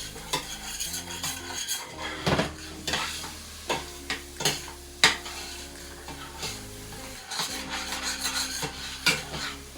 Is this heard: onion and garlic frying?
yes